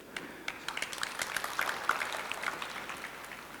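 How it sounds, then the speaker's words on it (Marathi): Audience applause at an inspirational speech event, a faint, distant patter of scattered clapping that builds slightly and fades, with no voices over it. "टाळ्या अशा वाजतायत जणू काही फुटबॉलची मॅच आत्ताच सुरू झालेली आहे"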